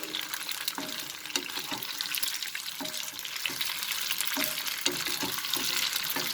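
Cauliflower florets frying in hot oil over a high flame, a dense continuous crackling sizzle with scattered pops and light stirring, close and steady, with no voices.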